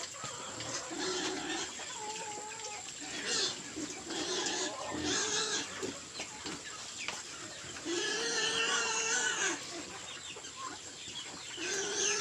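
A group of seven Large White piglets on a farm grunt and squeal in a busy, continuous chorus, with rooster and fowl calls mixed in nearby.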